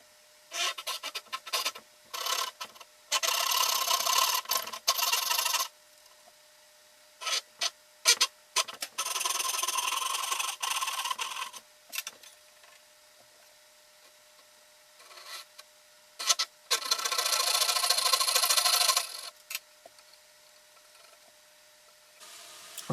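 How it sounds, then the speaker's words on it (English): Handsaw and chisel working a wooden tenon haunch for a coffee table: bursts of rasping saw strokes alternate with short scraping and paring scratches and brief pauses, close and fairly loud, with no talking. "use a handsaw and clean it up with a chisel"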